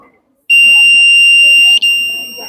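A loud, shrill electronic buzzer from an eye blink sensor at a science expo sounds abruptly and holds a steady high tone for about two seconds, briefly breaking once before continuing.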